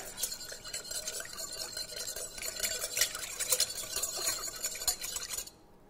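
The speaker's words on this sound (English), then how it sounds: "Just whisk that together." A whisk rattles quickly and steadily against a bowl of salad dressing with sea salt and Dijon mustard, close and fairly quiet, before stopping abruptly near the end.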